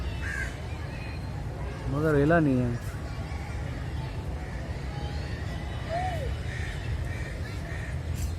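Crows caw at a zoo enclosure, one clear harsh burst of several rapid caws up front and a lone call later, with outdoor murmur, distant voices and a person talking throughout.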